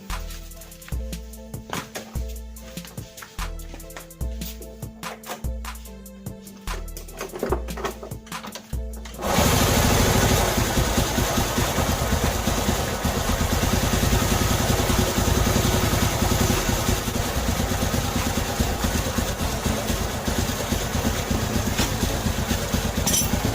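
Motorcycle engine with a worn, slack cam chain and dried-out oil, first a series of clunks and cranking attempts, then the engine catches and idles with a loud, rough, rattling mechanical clatter throughout.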